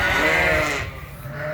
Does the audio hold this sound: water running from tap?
no